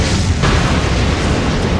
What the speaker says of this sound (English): Hold out until your ion cannon strike is available and use it to eliminate the Nod base first.